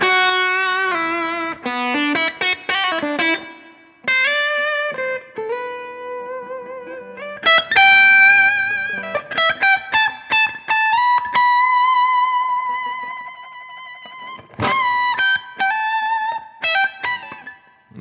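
Electric guitar played through a Bad Cat Cougar 5 five-watt 1x12 combo amp with heavy reverb, ringing single notes and short phrases with long washy tails decaying between bursts, loud and alone.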